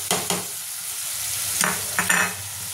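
Spices of turmeric, chilli, cumin and coriander powder being stirred and fried in a pan with a little water for a Bengali potato and pointed gourd fish curry, with steady close sizzling and a few distinct scraping strokes of the stirring spoon.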